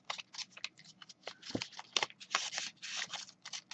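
Scissors cut paper for a papercraft StarCraft SCV model, a rapid series of crisp snips and slices close to the microphone, irregular in rhythm, over a faint hum.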